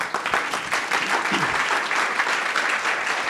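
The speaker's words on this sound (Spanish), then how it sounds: "Les pido un aplauso para ellos, por favor." An audience at an air-quality panel discussion applauds the panelists in a short, dense burst of clapping that holds steady and then tapers slightly, with a brief voice near the middle.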